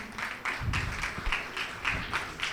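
Steady applause from an audience at an architecture college convocation, a dense patter of many hands clapping at moderate volume throughout.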